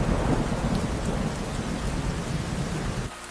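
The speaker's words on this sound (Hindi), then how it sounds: "2 दिन लगातार बीतने के बाद भी बारिश नहीं रुकती है।" Heavy, continuous rain pours down with low thunder rumbling beneath it. The downpour stays steady and close throughout, with no voices.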